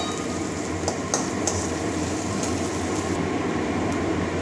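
Steady, dense sizzling of frying fills the clip, a constant crackling hiss with a low hum underneath and a few faint clinks, no talking.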